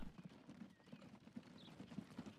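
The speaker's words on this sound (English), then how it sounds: "Our little horse and cart here." Horse and cart in a Manchester city-building video game, hooves clip-clopping in a quick, steady rhythm, faint and continuous with no voices.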